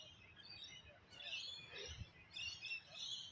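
Faint, high bird chirps and twitters come in short bursts at a caravan park beside the Mann River, distant and soft against a low background murmur.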